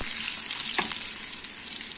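Sliced onions frying in a pan for Andhra-style gongura mutton curry give a soft steady sizzle with one brief stir scrape, fairly quiet and close, with no voices.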